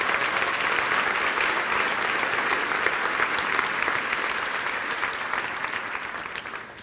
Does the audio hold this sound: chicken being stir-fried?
no